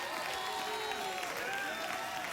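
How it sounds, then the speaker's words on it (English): Studio audience applause at a late-night TV talk show: a dense, steady wash of many hands clapping, sustained and fairly loud throughout with no speech over it. "Your applause is dying away."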